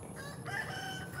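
A chicken crows once, a short, faint call outdoors against steady background noise.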